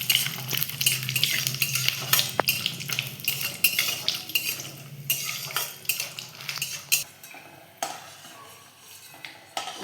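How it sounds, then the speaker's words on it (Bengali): Peanuts fry in hot oil in a wok for a vegetarian Bengali banana-flower dish, with a steady crackling sizzle and repeated scraping clinks of a spatula stirring against the metal, close and fairly loud throughout, no talk. "আমি একটু বাদামটা ভেজে নেব তেলটা গরম করে।"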